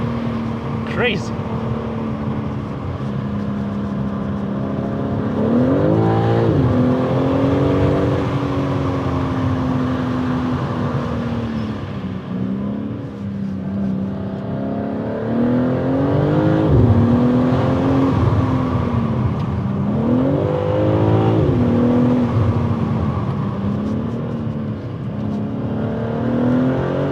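A BMW M3 Competition engine drones steadily while driving, rising and falling in pitch as it accelerates and shifts, loud and close throughout, with a voice talking over it at times.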